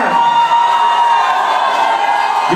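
An audience at a Zlatý David awards ceremony in Prague cheers and applauds loudly, a dense continuous wash of claps and shouts filling the whole moment.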